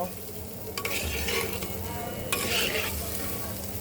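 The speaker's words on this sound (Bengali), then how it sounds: "সুন্দর করে মশলাটাকে আর ফুলকপি আলুটাকে ভেজে নেব" Cauliflower, potato and spices fry in hot oil in a pan while being stirred, giving a steady close sizzle broken by scraping stir strokes, with no voices.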